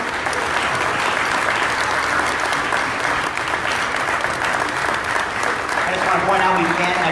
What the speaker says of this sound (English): Have a round of applause for our sixth grade chorus and director, Mr. John Roy.